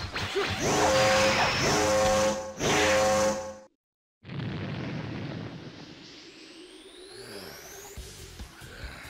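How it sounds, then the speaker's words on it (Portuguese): A ki blast explosion from the Dragon Ball Z Battle of Z video game: two loud, dense bursts of rumbling game effects, a brief silent gap, then a long whooshing roar that slowly fades with rising tones. "Olha essa rajada de Ki"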